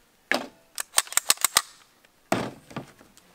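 Sharp gunshots are fired at a stack of Jenga blocks: one crack, a quick string of about six more, then one last shot. Each report is close and snappy, with short pauses between.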